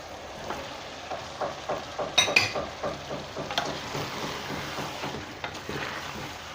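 Keema with tomatoes and potatoes frying over high heat in a pan, a steady soft sizzle broken by repeated scraping stirs and a few sharp clinks of a spoon against the pan.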